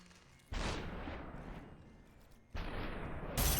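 Gunfire in the slow-motion shooter Superhot, heard as two heavy, crunchy bursts with long tails of rumble, the second arriving about two seconds after the first, followed by a sharp loud hit at the end; no talking.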